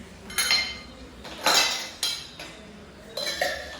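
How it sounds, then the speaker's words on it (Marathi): Dishes, pots and pans clink and clatter as they are put away in a home kitchen, several separate bursts of metal contact at close range with short pauses between them, no voices. "भांडी लावून घेतली"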